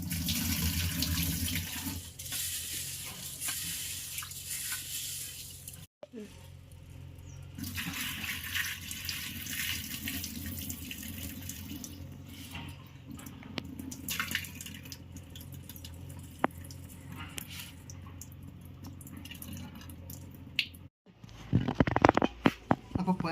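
About a quarter kilo of lentils is washed under a running tap, with steady water flow and splashing in a sink that briefly stops twice, close and fairly quiet.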